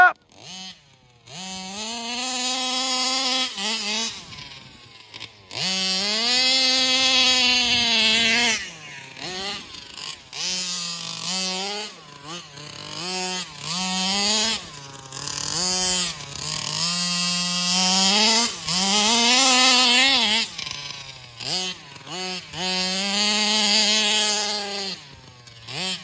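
A ported 32cc gas-engine RC car bashes around a backyard, its two-stroke engine screaming in loud, rising and falling revs with brief throttle lifts between bursts, close and continuous for the whole stretch.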